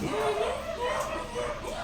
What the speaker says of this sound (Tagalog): may nag-aaway-away na namang aso